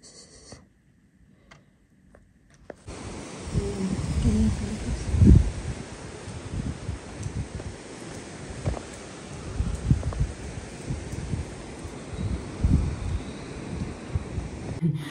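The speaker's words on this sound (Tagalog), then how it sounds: "lakas ng ulan at hangin" Strong wind and rain roar steadily with a broad rushing noise, gusting louder at times, with low rumbling buffets against the microphone.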